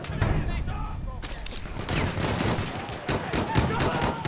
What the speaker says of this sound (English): Machine gun, look like it.